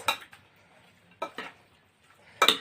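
A spoon scrapes and clinks against a bowl while chicken is tossed with spices and a little oil for shawarma, in a few sharp, close, sporadic knocks separated by quiet gaps.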